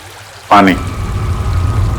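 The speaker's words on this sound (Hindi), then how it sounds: "पानी की आवाज लगती है।" Water flows steadily from a nearby river or waterfall, a constant low rushing wash that continues after a short voice cuts in near the start.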